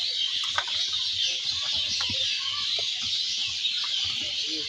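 Pekin ducks kept on a farm, their scattered calls and clucks popping out at moderate distance over a steady, dense background hiss, with no voices.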